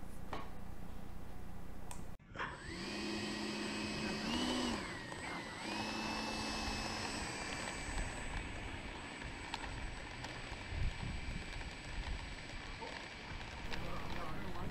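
A Freewing F-22 Raptor RC jet with a 90mm electric ducted fan spools up from near silence into a loud, steady high-pitched whine, with the pitch shifting briefly before holding through takeoff.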